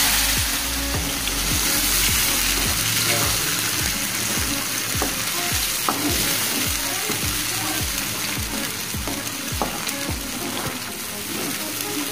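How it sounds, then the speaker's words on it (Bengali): Cumin seeds sizzle in hot oil in a pan for a Shillong fish and burki dish, a constant loud hiss broken by regular scraping stirs throughout. "এবার জিরা ফোড়ন দিয়েছি আমি"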